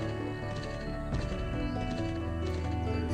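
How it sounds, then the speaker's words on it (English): Hooves clip-clop steadily in the online fantasy game Champions of Regnum as a horse moves off, a rhythmic beat over constant game ambience with no speech. "Now we can get on our horse and escape from this dangerous place."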